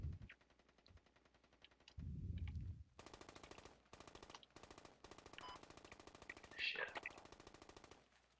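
Sustained machine gun fire in the tactical shooter game Squad, rapid repeated bursts running from about three seconds onward, loud and close, with a few earlier isolated shots and no talk over it.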